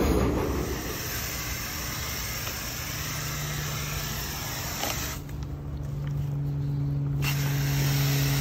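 A New York City subway A train to Far Rockaway rumbles past at a distance with a steady mechanical drone and a sustained low hum, no voices.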